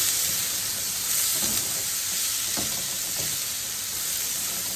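Colorful vegetable stuffing sizzles and hisses steadily in a hot frying pan, with a few soft scrapes as it is stirred.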